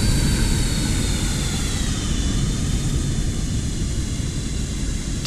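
Twin rear-mounted jet engines of an MD80 airliner in the X-Plane 12 flight simulator, a steady loud roar with broadband rumble and a faint high whine holding constant throughout, no voices.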